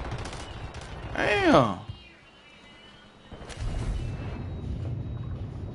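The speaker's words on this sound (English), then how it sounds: "I'm getting shot from air" Video game gunfire raining down from an aircraft keeps up a dense, rattling barrage, broken early by a man's short exclamation and a brief lull before the shooting surges back.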